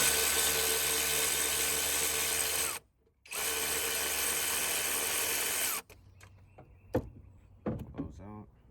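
A power tool spins out 8 mm bolts on a Jeep with a Hemi engine, a loud steady whir that stops briefly, restarts, then cuts off, followed by softer clinks and handling noises.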